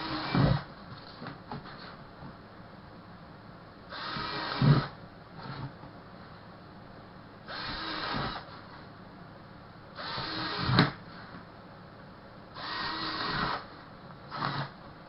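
A power drill bores holes through a plastic tote divider in several separate bursts of whirring, each lasting about a second, with quiet pauses between them.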